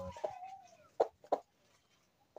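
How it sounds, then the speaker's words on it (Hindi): A broody hen being held in someone's hands gives a few soft, close clucks and a short drawn-out vocal note, then falls quiet. "आज मैंने पहली बार ये कुलुक मुर्गी पकड़ी है"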